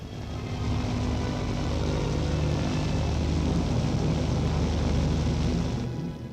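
A Beagle 206 twin-engine business aircraft, a £35,000 private plane from the 1960s, gives a steady, loud engine drone that holds evenly throughout before easing slightly at the end.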